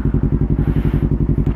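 An ATV engine on a rough off-road trail at a campsite, a steady, close, loud chugging with a fast regular pulse throughout, like a single-cylinder motor running nearby.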